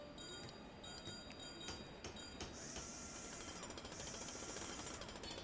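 Construction noise in the airport management game Airport CEO, a continuous mechanical rattle and clatter with repeated metallic clanks and tonal pings layered on top, steady and fairly dense throughout.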